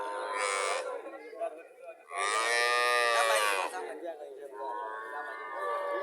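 A Rani Shankar dairy cow at a cattle market moos loudly and close, two long, strongly voiced calls with a shorter one between, while people talk in the background.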